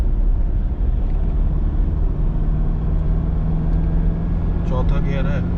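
Toyota Innova cruising in third gear at about 70, heard from inside the cabin as a steady, loud low rumble of engine and road noise that holds level throughout.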